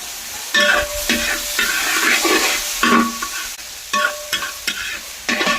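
Biryani masala with tomato, coriander leaves and mint frying in a pan, loud close sizzling broken by repeated scraping strokes of a spoon stirring it, with no talking.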